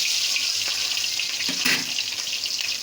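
Fish heads rubbed with salt and turmeric sizzle in hot oil, giving a steady, close hiss that carries through the whole stretch with a brief swell of bubbling near the middle.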